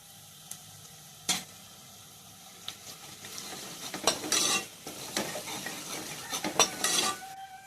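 Ground spices such as coriander powder and garam masala frying in oil for an Andhra-style gongura mutton curry, with a quiet sizzle, irregular stirring scrapes and clinks of a spoon on the pan, growing busier toward the end.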